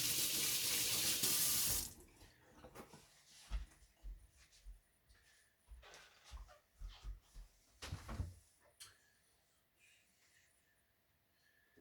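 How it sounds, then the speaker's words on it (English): Tap water runs at a kitchen sink for hand washing while cooking pork ribs, heard as a loud rushing stream for about two seconds that shuts off, followed by close splashes, knocks and handling sounds. "Wash my hands here."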